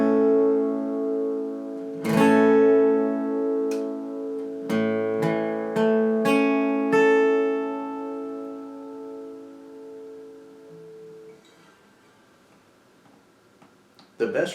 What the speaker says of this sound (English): the name of the new bar chord is A, and it will sound like this.